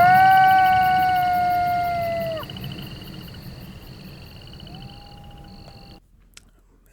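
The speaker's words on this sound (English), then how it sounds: "now I have my forest sound fade out as I fade my crickets in." Steady high-pitched cricket-like chirring over a dense forest ambience, fading gradually and dropping nearly to silence near the end.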